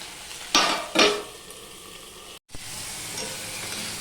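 Ginger and tomato sauté with panch phoron in a pan for Bengali fish curry. The low, steady sizzle is broken by two sharp stirring bursts early on and a brief dropout, with no voices.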